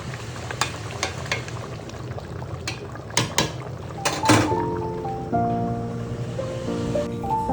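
A curry with green chillies sizzles in a pan while a spoon knocks and scrapes a few times, then steady background music joins over the frying.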